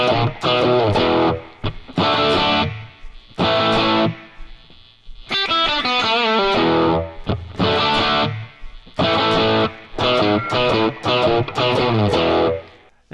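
An electric guitar with distortion plays a riff, loud chopped power chords alternating with brief silences and a quick single-note run in the middle.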